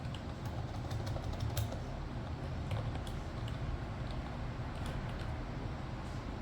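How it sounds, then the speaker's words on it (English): Keys tapped on a computer keyboard, typing a search entry on a PC, come as a quick run of light clicks over a steady low background hum, fairly close, with no talk. "I'm going to have to type up here in the search screen the following"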